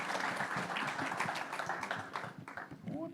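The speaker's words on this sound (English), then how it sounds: "give everybody a round of applause" A room of people at a men's panel session claps in a fairly soft, continuous round of applause, heard at a moderate distance with no clear voices over it.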